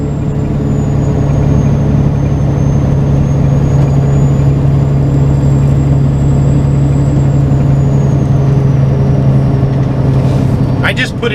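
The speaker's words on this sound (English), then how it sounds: "I just listen to the motor, and what matches the sound of the motor" A big rig's engine hums in a steady, loud low drone while rolling through the Salt River Canyon on Arizona Hwy 60, with a faint high whine above it and a brief rattle near the end.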